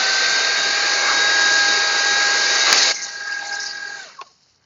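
A handheld battery-powered electric blower runs with a steady, loud whooshing roar and a whining tone for about three seconds, then drops to a lower whir before spinning down and stopping, leaving silence.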